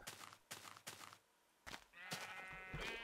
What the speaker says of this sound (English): He's killing the sheep!